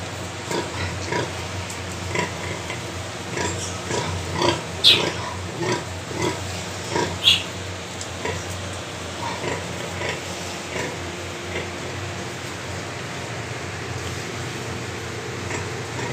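Small piglets grunting and oinking in a box, a steady run of soft, close grunts over a constant fan-like hum, with some speech mixed in.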